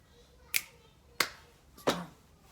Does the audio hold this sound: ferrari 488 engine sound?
no